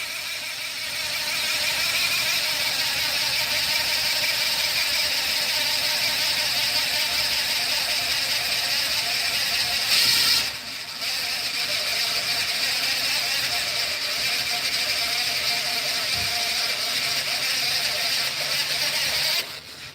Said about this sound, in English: It hasn't even impacted yet. Yet it's an impact driver.